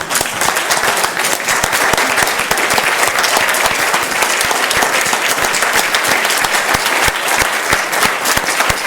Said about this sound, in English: I would really like all of us to get up and give him another applause